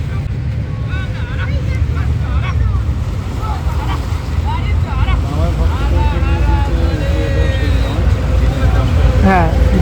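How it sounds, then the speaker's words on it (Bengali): Two launch ferries pull in together at Sheoraphuli ghat on the Ganges, engines droning steadily beneath wind and water noise, while a crowd of pilgrims chatters and calls out all around. "একই সঙ্গে 2টি লঞ্চ ছেড়ে চলে আসছে এই শেরাফুলির ঘাটে।"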